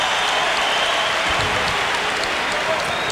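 A basketball arena crowd applauds a departing player during a 1992 NBA playoff game between the Blazers and Suns, a loud, continuous wash of clapping and crowd noise with no break across the moment.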